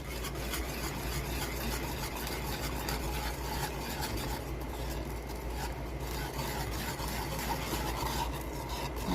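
Cornstarch being stirred into syrup with condensed milk for salted caramel yema fudge, giving a continuous soft scraping and rubbing in the pot, steady and moderately faint.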